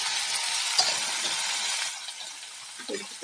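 Garlic and sweet pumpkin pieces fry in oil in a pan with a steady, close hiss and crackle, interrupted by occasional soft stirring knocks toward the end.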